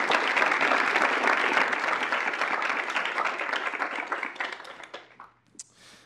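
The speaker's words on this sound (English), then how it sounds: "So if we could give them a round of applause." An audience at a university student involvement meeting gives a round of applause, dense clapping from many people that thins out and fades away near the end.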